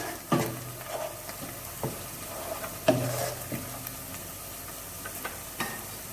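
Onions fry in a pan for chicken biryani, a soft steady sizzle broken by several sharp clinks and scrapes of a spoon stirring against the pan.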